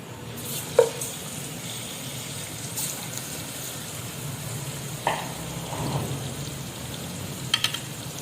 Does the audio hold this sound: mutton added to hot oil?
yes